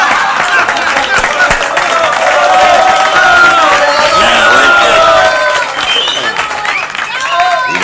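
An audience at a comedy show applauds and cheers, a busy swell of clapping and crowd noise mixed with voices rising and falling throughout.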